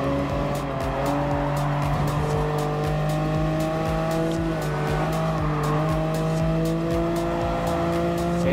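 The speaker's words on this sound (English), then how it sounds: "I have to make a little quick, clean inside pass on the Audi R8." GT1-class race cars in Gran Turismo Sport, including a Nissan Skyline R33, an Audi R8 and a Lamborghini Countach, roar continuously with layered engine tones and shifting pitches, loud and close, with tire squeal as cars pass and jostle.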